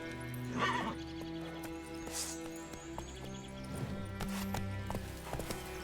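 Hooves of the horse Roach clip-clop in a steady rapid gallop in the video game The Witcher 3: Wild Hunt, beating under layered game music and ambient effects, with no talk.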